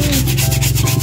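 A stiff brush scrubs mud off the shells of paros shellfish, giving quick, rhythmic rasping strokes up close over a low steady hum.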